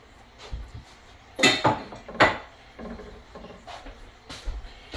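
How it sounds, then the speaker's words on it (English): A spoon stirring cream into Tuscan soup in a pot, giving a few scattered clinks and scrapes against the metal with quiet gaps between them. "let me stir this up, get the cream all mixed in nicely"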